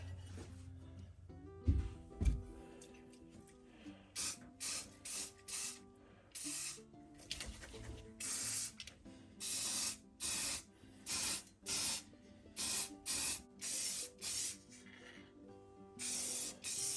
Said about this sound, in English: Let's go spray her up.